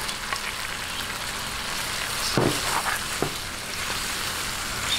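Chicken pieces sautéing in a hot pan for pocherong manok, a Filipino stew: a steady close sizzle throughout, broken by a couple of brief knocks and stirring sounds.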